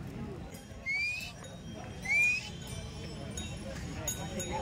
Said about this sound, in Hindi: ये तो घोड़े से आ गई।